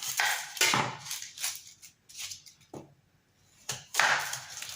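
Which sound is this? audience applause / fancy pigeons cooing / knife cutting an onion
knife cutting an onion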